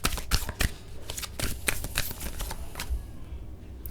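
Tarot cards shuffled by hand up close, a rapid run of crisp riffling flutters and slaps that tails off toward the end.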